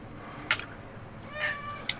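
A house cat meows indoors: a short sharp meow, then a longer drawn-out one and a brief final chirp, faint and fairly close with quiet room noise between.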